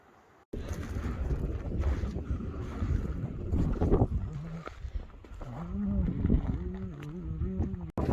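Strong wind on the Pacific Crest Trail near Government Camp buffets the microphone with a low rumbling roar, and a voice briefly sounds through the gusts.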